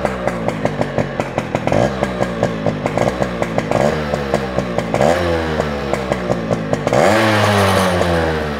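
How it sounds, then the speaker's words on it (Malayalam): A Yamaha RX 135 two-stroke motorcycle engine kicks to life nearby, then settles into a rapid, rattly popping idle with a few throttle blips, ending in a louder rev. "ഇനിയിപ്പോൾ ഞാൻ എൻ്റെ വണ്ടി ഞാൻ നിങ്ങൾക്കൊന്ന് സ്റ്റാർട്ട് ചെയ്ത് ഞാൻ കേൾപ്പിച്ചു തരാം"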